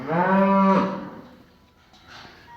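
A cow on a cattle farm gives one loud, close, drawn-out moo lasting under a second, followed by quieter farm ambience and a faint second call.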